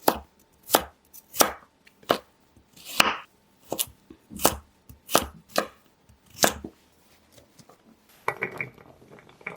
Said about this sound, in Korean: 당근은 감자보다 조금 작은 크기로 썰어 주세요